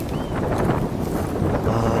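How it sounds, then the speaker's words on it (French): Strong outdoor wind buffeting a microphone, a continuous loud rumbling roar that fills the whole moment. "Je sais pas si on va entendre bien avec le vent"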